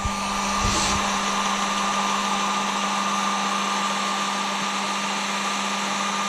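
Heat gun blowing hot air on low over new motocross graphics on a CR125R: a steady, loud fan whoosh with a constant electric hum, running unbroken from start to finish after a brief switch-on.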